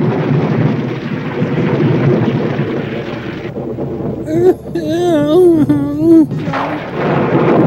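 Thunderstorm with rolling thunder and rain in a film scene, a loud low rumble that runs under voices throughout while other sounds break in near the middle.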